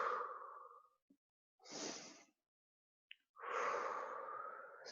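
Audible yoga breathing, exhaling as if through a straw: three soft, breathy passes of air close to the microphone, separated by brief silences, the last one long and drawn out.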